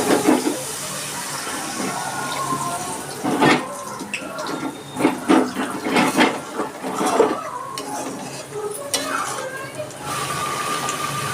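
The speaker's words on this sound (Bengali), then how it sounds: "আমার মশলাটা কষানো হয়ে গেছে, এবার আমি দিয়ে দিচ্ছি জল" Water goes into a pan of fried spice paste for a royal egg curry, giving a sizzle and bubbling with clinks of a utensil against the pot and scattered kitchen clatter, at moderate loudness.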